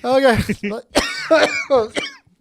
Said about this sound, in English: See, cough.